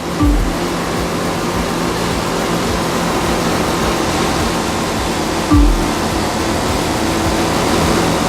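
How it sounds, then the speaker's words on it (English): A powerboat racing over ten-foot offshore waves in The Crew 2, heard as a constant loud rush of spray and surging water, with two heavy thumps where the hull slams down. "you'll occasionally have to deal with 10-foot waves on offshore races"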